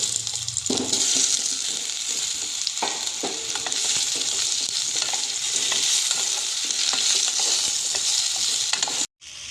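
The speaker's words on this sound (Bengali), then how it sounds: "ফোড়নটা হয়ে গেলে আমি কেটে রাখা আমগুলো দিয়ে দেবো" Chopped raw mango tossed into a hot oil tempering of mustard seeds and a dried red chilli, giving a loud continuous sizzle and stirring scrapes that cut off abruptly near the end.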